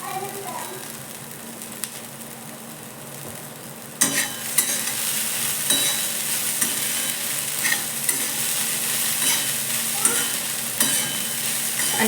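Onion poha, sautéed with onions, scraped and stirred in a pan, with steady close sizzling and spoon scrapes that grow louder after a quieter start and carry on throughout.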